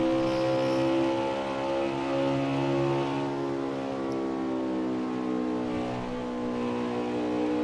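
Race car engines at an oval track in Kentucky, a steady loud droning roar with sustained rising and falling pitch as cars circle, continuous and close with no talk.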